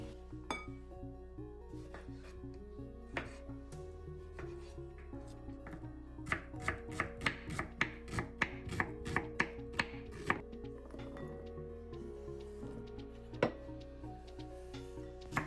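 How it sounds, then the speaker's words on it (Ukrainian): A knife chops bell pepper, tomato and onion on a cutting board, irregular at first, then a quicker run of crisp strokes, with quiet music underneath. "Далі наріжемо один болгарський перчик, одну помідорку і одну цибулинку"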